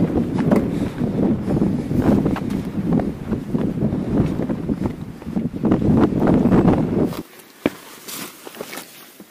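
A strong, cold north wind on a Southern Ural mountain trail buffets the microphone in loud, rough gusts with some footstep-like thumps, then drops abruptly to a much quieter stretch near the end.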